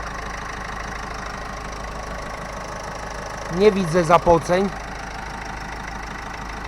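An Opel Astra engine idles with a steady, even low rumble throughout, while someone speaks briefly over it partway through.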